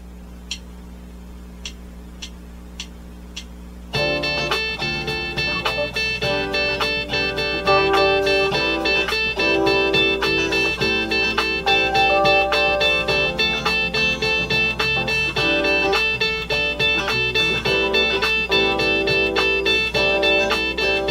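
After a few soft ticks, a backing track starts and a guitar picks steady, even eighth notes over it, a beginner picking speed exercise heard close and bright, with no voices over the music.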